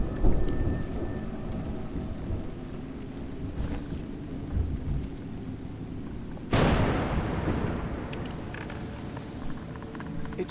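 Steady rain pours in the video game A Juggler's Tale, a dense continuous hiss, and a sudden loud thunderclap crashes in partway through, then rumbles on under the downpour.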